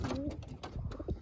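Pigeons cooing at close range, soft throaty coos with fluttery bird noises around them, short and busy.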